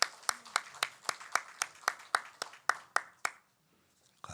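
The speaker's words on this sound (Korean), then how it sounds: "우리 다시 한번 축복의 박수 하십시다." A church congregation claps in unison during a Sunday worship service, a steady run of about fourteen sharp, evenly spaced claps that stops abruptly, followed by near silence.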